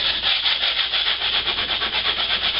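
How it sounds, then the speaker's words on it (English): Steady, rhythmic rasping of sculpting foam being sanded on a custom car console, close and continuous with even back-and-forth strokes, no talking. "Alright, back to sanding."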